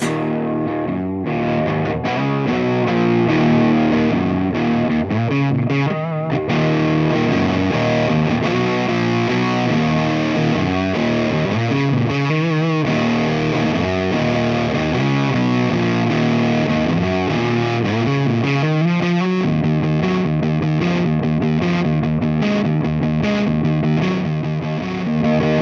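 Heavily fuzzed electric guitar through a Hello Sailor Effects Xenomorph Fuzz pedal, played continuously with thick, saturated sustained chords and shifting riffs, loud and alone with no talking.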